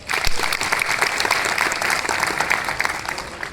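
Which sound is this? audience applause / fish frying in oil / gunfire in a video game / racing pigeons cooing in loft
audience applause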